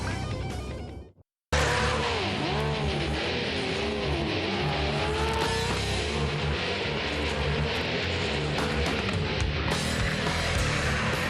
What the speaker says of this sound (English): Car number 2 shoots ahead.